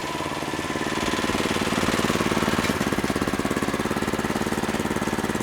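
A water-well drilling rig motor runs steadily as it turns the drill bit on a ranch, a loud, rapid, even mechanical chugging with a constant pulse and no talk over it.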